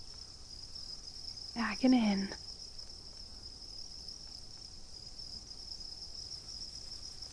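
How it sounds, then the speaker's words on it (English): Crickets at a cricket farm stridulate in a steady, high-pitched continuous chorus that runs throughout, faint and even, with a brief spoken phrase in the middle. "The technical term is actually stridulation."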